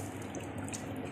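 Water pours into a cooking pot for sinigang na tilapia, a steady close splashing stream without a break.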